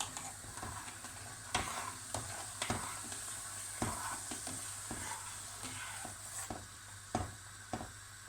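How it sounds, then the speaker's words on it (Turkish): A spoon stirring lemon juice into a pot of liquid for stuffed meatballs (içli köfte), with soft repeated scraping and clinks against the pan over a faint sizzle-like hiss. "Şöyle bir karıştırayım."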